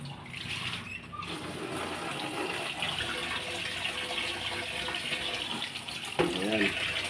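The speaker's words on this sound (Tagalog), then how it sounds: "Tapos lagyan natin konting tubig." Water poured from a tap while cooking ginataang tilapia, a steady close splashing flow running throughout, with a clatter near the end and a voice briefly audible.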